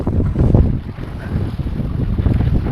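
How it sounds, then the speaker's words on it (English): Strong wind buffets the microphone in a loud, continuous roar with surging gusts, in cold, exposed open country near Puerto Natales, Chile, with no one speaking. "But it's very windy, and it's also very cold"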